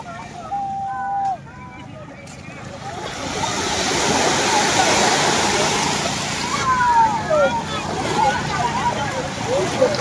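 A fishing boat arrives from sea at a fish terminal in Tanza, Cavite, its motor rumbling steadily beneath wind, lapping water and surf, with some bird calls and distant background voices.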